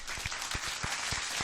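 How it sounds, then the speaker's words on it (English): A short burst of crowd applause during a UFC London live fight reaction show, dense clapping from many hands at a steady level. "So a round of applause"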